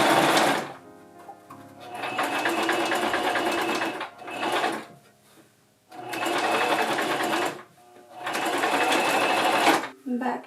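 A sewing machine stitches the side seam of an apron's bib and skirt in three long bursts of rapid, close mechanical chatter. Short pauses separate the bursts.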